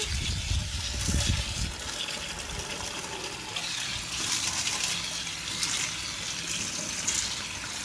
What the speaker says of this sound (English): So let me rinse my corn.